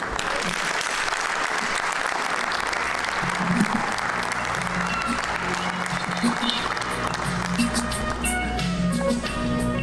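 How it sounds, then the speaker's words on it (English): Applause from an audience at a public lecture and awards event, steady and dense throughout, with some voices mixed in underneath. "can you give Professor Bath Naji another round of applause, ladies and gentlemen?"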